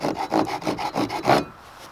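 Rhythmic back-and-forth sanding on wood, about seven close strokes in a steady rasping rhythm, then stopping into quiet.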